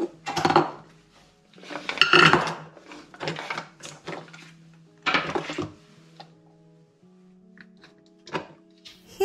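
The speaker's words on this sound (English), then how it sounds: "Put the chocolate and butter into a saucepan to melt." Chocolate and butter dropped into a metal saucepan for brownies, with several clattering knocks and clinks of pieces and utensil against the pan in irregular bursts, close and crisp, with quiet gaps between.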